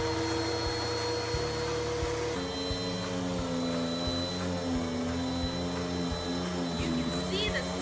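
A Bissell CleanView bagless upright vacuum cleaner runs steadily with a constant whining motor roar, close and moderately loud, with a slight shift in pitch partway through.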